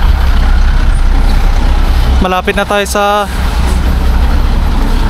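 Road traffic with trucks on a road under repair near Cordon, Isabela: constant engine rumble and road noise, broken by a brief honking horn burst midway, with a voice talking over it.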